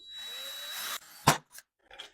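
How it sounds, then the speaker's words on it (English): A handheld drill bores a hole through a strip of metal, one steady whine lasting about a second, followed by a few short clanks and knocks of the workpiece being handled, close up. "Chuck, drill your holes."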